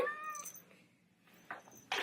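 A pet cat meows close by indoors, a short tonal cry at the start followed by quieter breathy sounds and a couple of brief noisy bursts.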